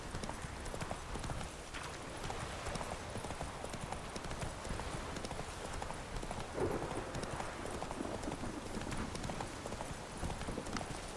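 Roach, the horse in The Witcher 3, gallops in a continuous, fast hoofbeat rhythm that fills the whole stretch at moderate volume, blended with game ambience.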